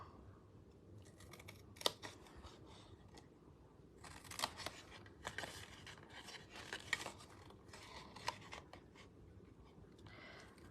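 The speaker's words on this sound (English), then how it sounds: "just cutting those score lines" Scissors snip and crunch along score lines in paper or card, a series of short, quiet cuts and rustles at an uneven pace, close by with no talking.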